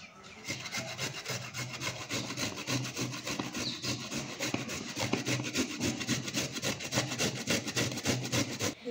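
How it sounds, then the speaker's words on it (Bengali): A peeled carrot is rubbed hard against a grater, giving a continuous rasping scrape in quick, even strokes, close and loud throughout with no voices. "ভালো করে গ্রেট করে নিচ্ছি।"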